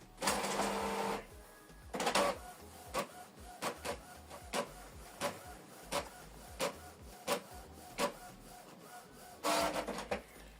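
A Canon Pixma TS7550i printer printing a document: a loud whirring feed burst at the start, then rhythmic clicks and short mechanical pulses about once a second, and another whirring burst near the end.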